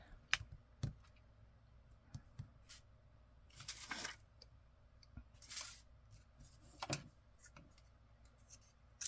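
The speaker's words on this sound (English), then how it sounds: "I'll cut off the edges." Quiet paper cutting with scissors trimming the edges of a page, soft snips and rustles scattered over a faint room background, with a few clicks and handling noises in between.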